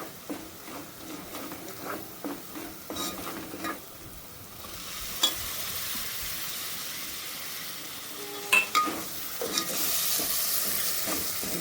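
Finely chopped tomatoes frying in a pan for bangda fish curry, with a close sizzle and repeated scraping, clattering stirs that come in short bursts, then a steadier hiss later on.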